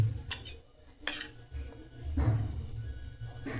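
A spoon scrapes and clinks against a dish while packing masala spice mix into okra, several separate metallic taps and scrapes over a low rumbling background, with no talk.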